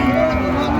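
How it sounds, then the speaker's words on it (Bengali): A Friesian bull calf, around seven to eight months old, gives a single drawn-out moo up close at a cattle market in Raniganj, Dinajpur, loud and alone with no talk. "ফ্রিজিয়ামের ষাঁড় বাচ্চা।"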